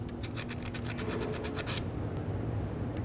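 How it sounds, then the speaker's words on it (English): Sandpaper rubbing corrosion off a starter signal wire terminal on a 2011-2016 Ford F-350 with the 6.2L V8, quick rhythmic rasping strokes close up that stop abruptly partway through. "use a little bit of sandpaper on it, and clean it up if it has some corrosion"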